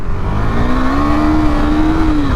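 A KTM Duke 390 motorcycle accelerating hard with a quick shifter, its loud close engine note rising steadily through a continuous, smooth pull under a rush of wind.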